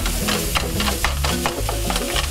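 Ground meat browns in a hot pan, loud sizzling broken by repeated scraping stirs of a utensil, close up with no talk.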